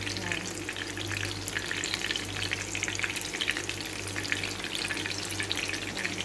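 Eggplant omelette frying in a little oil in a thick stainless pan, a dense, continuous close sizzle with light crackling throughout, no voices.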